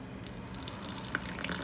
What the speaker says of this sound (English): I'm going to go ahead and add a little water into this bowl and mix it up with a small whisk.